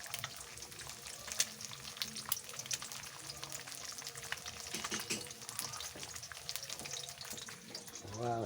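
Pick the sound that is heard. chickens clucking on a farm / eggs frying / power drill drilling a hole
eggs frying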